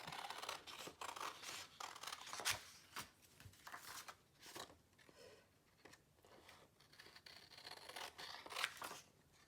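Scissors snip paper ephemera up close. Quiet, irregular crisp cuts and rustling paper continue in short bursts throughout, with no talking.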